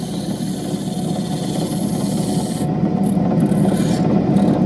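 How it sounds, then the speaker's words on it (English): An opal from Coober Pedy is ground on a medium grinding wheel, giving a steady, close rasping hum with motor drone underneath that holds even throughout, with no voices. "Finish up here on this medium wheel."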